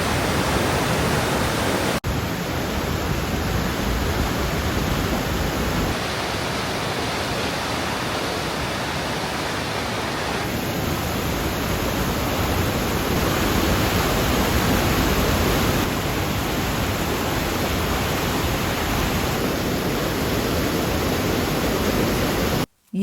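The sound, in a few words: waterfall roaring as water pours over the edge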